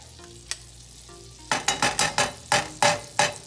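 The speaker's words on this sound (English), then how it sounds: "I'm just gonna add a little bit of butter to my pan. Let that melt." Butter melts in a hot frying pan while making French toast English muffins, giving a quiet sizzle with a run of sharp, rhythmic scraping and clacking strokes from stirring or spreading in the pan.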